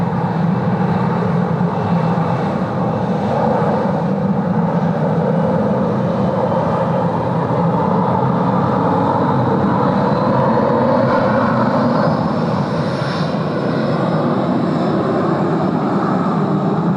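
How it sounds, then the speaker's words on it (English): Jet engines of a Malaysian airliner powered by Pratt & Whitney engines at Sydney Airport, a loud, sustained roar working hard, close and steady throughout with no talk. "Lovely sounds there from Malaysian as well. The Pratt & Whitney's working hard."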